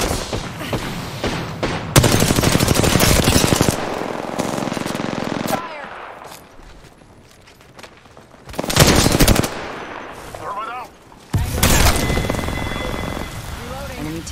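Rapid automatic gunfire in a video game fires in long, loud bursts separated by quieter gaps of ambient game sound.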